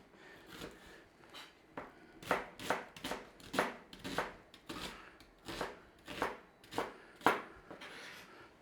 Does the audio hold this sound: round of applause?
no